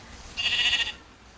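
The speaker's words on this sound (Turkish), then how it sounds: "3 tane birden koyun bulduk arkadaşlar" Sheep bleating in the video game Minecraft: one drawn-out, wavering bleat of about half a second, fairly close and clear over quiet background.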